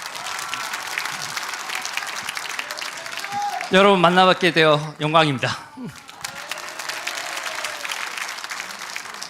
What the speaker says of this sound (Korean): 우리 수락연설을 큰 박수로 청해 듣겠습니다